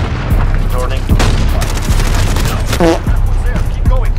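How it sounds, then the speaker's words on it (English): Explosions and gunfire boom through a Call of Duty Modern Warfare multiplayer match, loud and constant, with dense blasts and rattling shots stacked over a heavy low rumble and a few short voice-like tones in the mix. "Ow, these grenades! Oh my god, all those freaking grenades."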